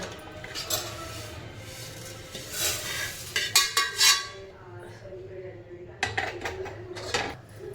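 Flattened rice being dry-roasted in a pan, with repeated scraping strokes of a spoon and metallic clinks against the pan in uneven bursts, close by, over a faint background hum.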